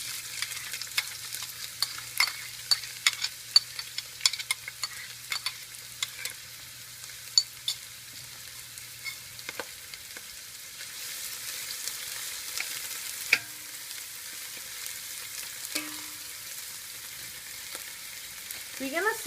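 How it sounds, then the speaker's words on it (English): Green chilies and chopped onion sauté in light oil over medium to medium-low heat for a Durban-style chicken curry. A soft, steady sizzle runs throughout, broken by sharp spatula clicks and scrapes, with no talking. "We're going to saute this until golden brown for about 2 to 3 minutes on medium or medium-low heat."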